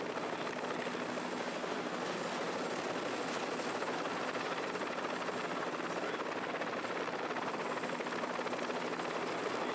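Helicopter flying over the hilly Marche landscape of Italy during a bike race, a steady, fairly faint rotor and engine drone continuing unchanged for the whole stretch.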